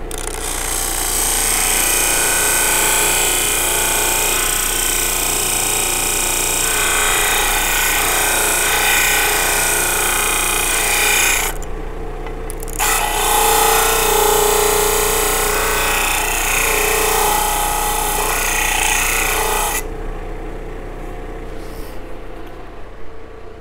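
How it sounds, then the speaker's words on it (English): Sanding and shaping the wings of a wooden ukulele bridge with a power sander, a loud steady whir that runs almost the whole time, with a brief pause near the middle and a drop-off near the end. "So I'm just going to sand the wings and shape it a little bit."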